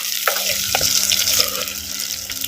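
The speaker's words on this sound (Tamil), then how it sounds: "சின்ன வெங்காயத்தையும் பெரிய வெங்காயத்தையும் எண்ணெயில் நல்லா வதக்கு வதக்குன்னு வதக்கணும்" Small and large onions sizzle in hot oil for a dried fish curry, with a constant crackling hiss broken by a few clinks and scrapes of stirring.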